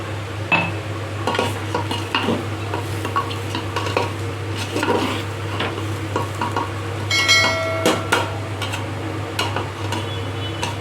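Whole spices for chicken pulao sizzling in a pot, with a constant low hum beneath, frequent metal spoon scrapes and clinks against the pot, and a brighter burst of sizzling and clatter near the end.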